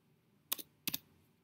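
A couple of quick keystrokes on a computer keyboard while entering a number, two short separate clicks close by in a quiet room.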